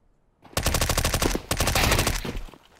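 A silenced MP5-SD submachine gun in a video game fires two rapid full-auto bursts, each about a second long, as dense, close, punchy clatter with a short gap between them.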